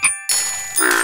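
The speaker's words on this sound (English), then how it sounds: "George has found some very musical frogs." Bright, musical frog croaks ring out in two short tonal bursts with a brief pause between, close and clear, synthesized sounds from a Curious George children's game.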